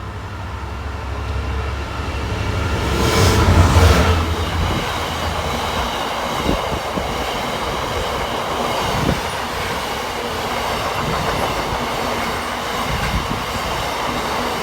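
Freightliner Class 66 diesel freight train passing at Loughborough: loud, continuous rumble of the engine and wagons with rhythmic wheel clatter and rail thumps, sustained throughout at close range.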